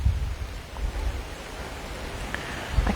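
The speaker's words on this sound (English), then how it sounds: "it actually feels quite exciting to be out here in the rain" Rain falls steadily outdoors as a close, even wash of patter, with a few louder drops and gusts of wind against the microphone.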